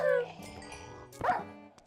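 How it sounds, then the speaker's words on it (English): Evil dogs in the horror video game Fear Nightfall bark and yip in short bursts, a couple of sharp calls at the start and another burst near the middle, set against a busy game soundscape. "I wish I didn't have to kill the dogs, but the dogs are evil"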